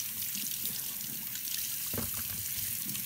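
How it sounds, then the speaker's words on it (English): Sliced lotus root rinsed under a running tap, a steady close trickle and splash of water with a brief louder gush near the two-second mark; no talking. "once I slice it, I'm gonna rinse it"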